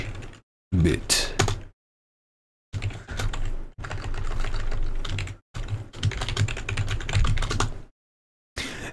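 Computer keyboard keys are typed in several bursts of rapid, close clacking separated by short silences, entering a terminal command on an Ubuntu computer.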